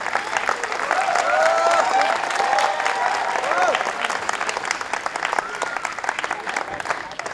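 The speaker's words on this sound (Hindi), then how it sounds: "जोरदार तालियां बजाइए" An audience claps loudly and continuously during a certificate presentation at the Bhartendu Natya Academy, the dense applause swelling early and then holding steady, with some voices mixed in.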